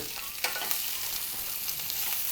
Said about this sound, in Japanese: 今ジューッと音鳴ってきました